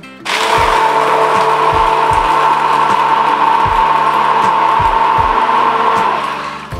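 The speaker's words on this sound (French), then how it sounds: "Vous allez encore mixer." A loud blender whirs steadily as it mixes rose water with cloves, a constant close motor drone with periodic low thumps and knocks underneath.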